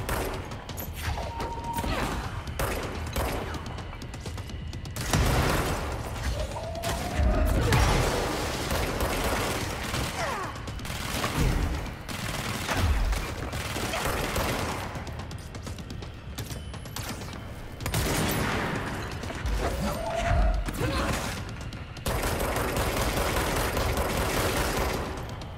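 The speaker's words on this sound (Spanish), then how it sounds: "Ya puedo regresar los balazos." Rapid bursts of gunfire in the video game Control, with booming impacts over a dense, continuous mix of music and effects, loud throughout.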